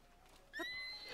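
A horse in the video game Tears of the Kingdom gives a clear, fairly loud whinny that rises and wavers for about half a second, then trails off over faint game background.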